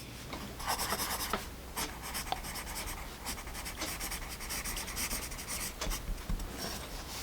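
Japanese eraser rubbing out B pencil marks on paper, a continuous close scratchy rubbing in quick back-and-forth strokes lasting several seconds.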